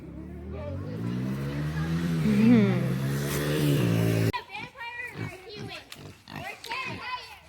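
Farm pigs grunt and squeal at close range in the evening, with a person talking over and after the animal noises.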